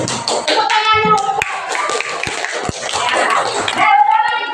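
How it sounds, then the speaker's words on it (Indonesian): Third-grade children in a classroom lesson on tarawih and witr prayers clap their hands in a quick, ragged burst of overlapping claps, with kids' voices calling out over and through the clapping. "Tepuk tangan dulu."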